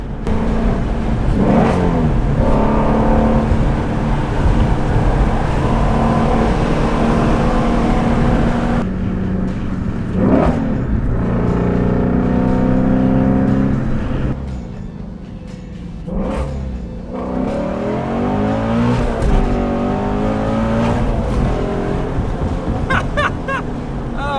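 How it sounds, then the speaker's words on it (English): A loud car engine roars and revs repeatedly, rising and falling in pitch through gear changes, with a constant heavy rumble and echoing surroundings. "The car is just so loud, and the sound is bouncing off of everything"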